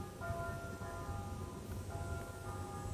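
A bell chimes with sustained ringing tones over a steady low background hum, moderately quiet and alone with no voices.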